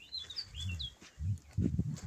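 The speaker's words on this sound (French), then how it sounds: "le gazouillis des oiseaux." Thin high bird chirps flit near the start, faint and brief, over low rustling and muffled noises closer by.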